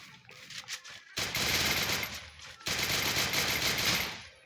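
Gunfire from the Free Fire battle-royale video game, loud sustained bursts of automatic fire in two long stretches after a short quieter lead-in, with no talk over it.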